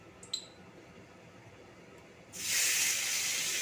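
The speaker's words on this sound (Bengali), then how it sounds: "চিংড়ি মাছটা ভেজে নিচ্ছি" Prawns drop into hot oil in a heated wok and set off a sudden, loud, steady sizzling hiss. A few faint clinks come before it.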